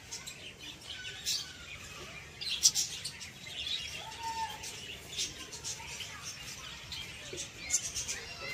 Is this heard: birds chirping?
yes